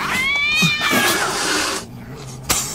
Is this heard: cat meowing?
yes